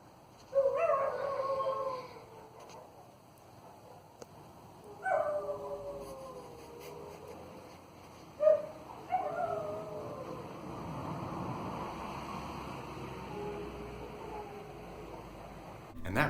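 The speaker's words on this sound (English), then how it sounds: "I came across a video I took one night of my 2 dogs howling." Two dogs howling together at night, heard as a recording played back: long wavering howls in three or four drawn-out rises, moderately faint against a steady background hiss.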